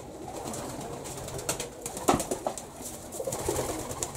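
An old purebred pigeon coos in a dovecote on a morning visit, soft repeated coos rising over a steady rustling background, close and moderately loud.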